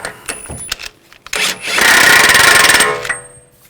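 A nut is tightened during a front CV axle replacement on a 2009-2010 BMW 535i xDrive: a few scattered clicks and knocks, then a loud, steady power-tool whir lasting about a second before it stops. No voices.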